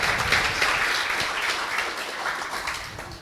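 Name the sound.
audience applause for a lecture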